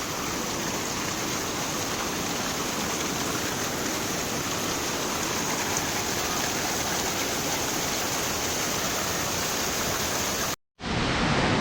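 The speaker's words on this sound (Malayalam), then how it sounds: "നല്ല ഭംഗിയുള്ള വെള്ളച്ചാട്ടാ" A small waterfall at Thusharagiri roars with a dense, unbroken rush of falling water, loud and close, steady for the whole stretch before a brief cut and its immediate return.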